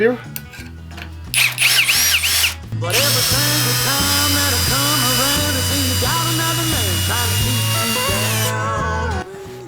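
A cordless screwdriver drives a 200 mm turbo screw, its motor whining loudly and continuously while the pitch steps up and down in bursts as the screw bites and advances, ending in a sudden cutoff.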